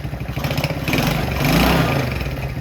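A small 70cc Chinese quad engine runs loudly up close with a rough, sputtering idle that briefly revs higher before settling back, more sound coming through the carburetor than the exhaust.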